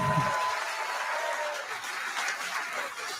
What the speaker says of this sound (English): Give him a round of applause too.